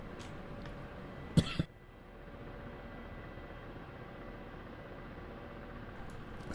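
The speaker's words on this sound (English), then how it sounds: "Sorry, I'm coughing at the moment." A person gives a short double cough close to the microphone, then quiet steady background hiss continues alone.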